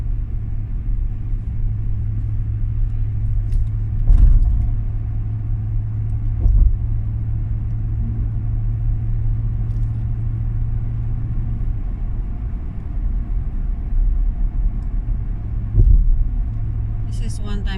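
A car drives across the Marc Basnight Bridge toward Hatteras Island, North Carolina, with a steady low engine and road rumble throughout and occasional louder thumps from the road surface.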